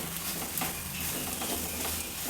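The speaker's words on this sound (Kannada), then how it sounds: "ಸ್ವಲ್ಪ ಎಣ್ಣೆ ಬಿಡೋವರೆಗೂ ಹುರಿದ್ರೆ ಸಾಕು" Masala gojju for a dill-leaf masala chitranna frying in oil in a pan, a steady soft sizzle with faint stirring scrapes throughout, close and even, no voices.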